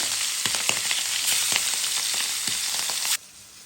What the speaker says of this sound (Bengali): দিয়ে দিলাম মাছটা, হালকা ভেজে নেব